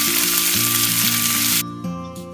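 Thick-cut bacon fries in oil in a pan with a loud, dense, continuous sizzle up close, which drops off abruptly near the end.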